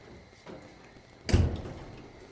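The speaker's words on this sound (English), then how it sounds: "Close the door." A door in a home garage where an '81 Corvette is being worked on closes with one soft knock, then a heavier thud as it shuts, set against faint room hum.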